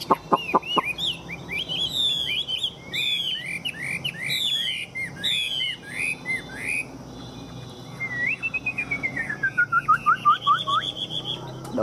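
A caged Chinese hwamei, a large-bodied, tame songbird, sings loud, clear whistled phrases close by: a rapid string of rising and falling notes, a short pause, then a long descending trill of repeated whistles.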